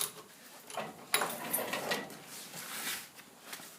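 Homemade wire stripper machine with a cutting wheel made from a steel washer, a soft grinding, rolling mechanical whir as wire feeds through, fairly quiet and continuous with a few clicks.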